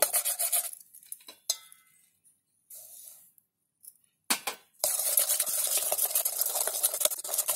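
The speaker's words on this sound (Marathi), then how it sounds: "आता याच्यामध्ये रवा टाकते" Eggless sponge cake batter with semolina being stirred in a bowl comes through as bursts of close scraping and stirring broken by short pauses, then turns into continuous vigorous mixing toward the end.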